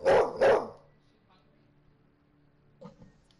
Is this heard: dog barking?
yes